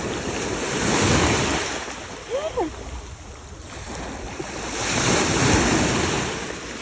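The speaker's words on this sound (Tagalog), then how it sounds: "Malakas ang alon." Strong ocean waves breaking on rocky shore, heard as a loud, continuous surging wash that swells and recedes twice, with heavy wind buffeting the microphone and one brief voice.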